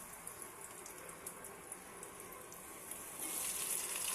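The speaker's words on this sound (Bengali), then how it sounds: "দুটা দুটা করেই ভাজবো।" Eggplant pieces coated in poppy seed fry in oil with a soft, faint, continuous sizzle, with light pops scattered throughout, growing a little louder near the end, with no talk.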